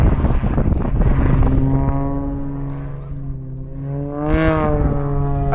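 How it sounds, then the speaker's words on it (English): An aerobatic display aircraft of the Blades team drones loudly and close overhead at the 2022 Southport airshow while spinning and tail-sliding, its engine pitch rising and falling, with some wind buffeting. "As James spins the aircraft, stops it perfectly towards us, and starts sliding back through its own smoke in another tail slide"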